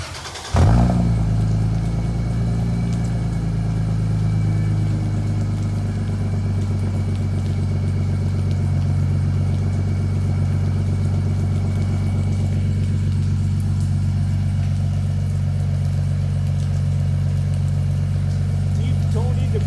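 A 2JZ-swapped Subaru BRZ with an HKS exhaust idles steadily with a deep, even rumble after a sharp start-up, while a voice talks briefly underneath.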